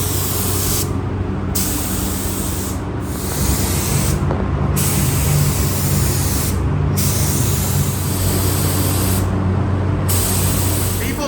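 Spray paint hissing as a second coat goes onto a mailbox, loud and close, in several bursts with short pauses between them over steady background noise.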